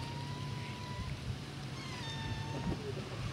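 Cats meowing outdoors in Mérida, Yucatán, a few thin drawn-out mewing calls over steady street and wind noise, with a faint voice in the background.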